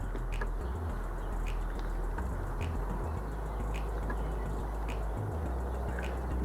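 Birds call intermittently outdoors under a bright, lightly clouded sky, with short chirps scattered over a constant low rumble of background noise.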